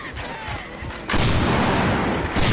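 Bursts of gunfire in the video game GTA 5 break out loud and dense partway through, over a rumbling game soundscape with some voice nearby.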